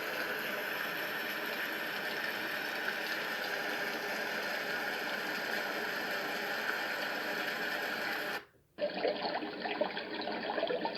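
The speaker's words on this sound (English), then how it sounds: "rain" A white noise machine plays its rain setting as a soft, steady, hissing wash. It cuts out abruptly near the end, then a duller, narrower noise starts up.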